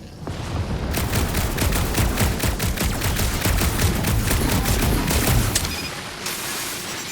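Sustained rapid gunfire in the Guardians of the Galaxy video game: dense, loud volleys of shots rattle for several seconds with booming impacts, then cut off abruptly near the end.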